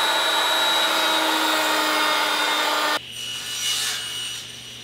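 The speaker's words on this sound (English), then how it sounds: "At the router table, I'm going to make this dovetail channel." A router table with a dovetail bit cuts a channel in desk stock, a loud steady high whine of the router with woodcutting hiss, then the cut ends abruptly and a lower motor hum continues.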